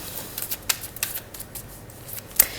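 Tarot cards are shuffled and drawn at close range, a quick run of soft riffling flicks and snaps with a sharper slap near the end, with no voice over it.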